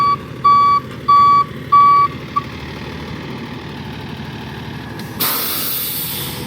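A reversing alarm on a tractor or truck sounds four steady, evenly spaced beeps over a low idling engine, then stops, and a broad hissing noise starts and continues to the end.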